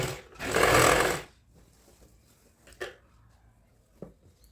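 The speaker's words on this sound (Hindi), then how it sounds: "मैं एक सिलाई इसके ऊपर से लगा रही हूँ" A sewing machine stitching kurti fabric gives a short, loud whirring burst of about a second, then falls quiet, followed by a few faint clicks and handling sounds.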